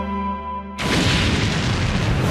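A loud, sudden explosion effect for an apple-shaped planet bursts in after a sustained synth tone, then roars on as a dense rumble.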